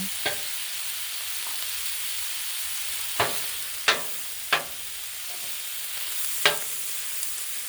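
Food sizzling on a Blackstone griddle, a steady soft hiss punctuated by several sharp scraping spatula strokes spaced a second or so apart.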